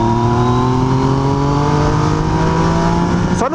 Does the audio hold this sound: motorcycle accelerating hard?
yes